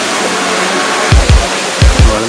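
Water running in a stream near Tada Falls during a trek, a loud, continuous broadband rush of flow with a few low bumps from handling noise.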